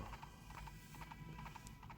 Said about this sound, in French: On a changé de cheval et on va un peu plus vite en se déplaçant.